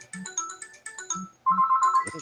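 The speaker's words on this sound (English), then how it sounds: "So you got a phone call coming in." A phone ringtone plays a repeating melodic pattern of bright electronic tones, loud and close, shifting to a higher steady warble near the end.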